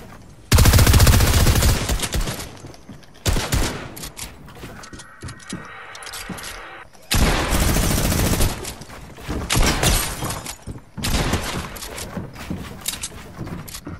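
Rapid bursts of gunfire from the video game Fortnite, loud dense volleys in several separate clusters with short quieter gaps between them.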